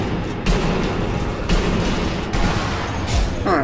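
Gunfire in the video game Sniper Elite V2: rolling bursts and heavy booms over a dense battle din, loud and close, with several distinct blasts spaced through the few seconds.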